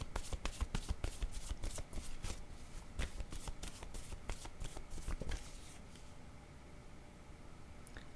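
Tarot cards are shuffled in a rapid run of crisp riffling flicks for about five seconds, close and fairly quiet, then the sound stops and leaves a faint background.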